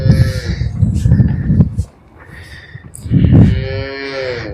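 Cattle at a farm with twelve cows for sale moo in two long, loud, close calls, one opening the moment and another after a short pause. Farm background noise fills the gaps, and no one speaks.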